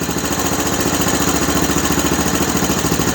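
A Honda TRX-250 Recon ATV engine runs steadily nearby, a continuous even putter with no breaks or change in pace.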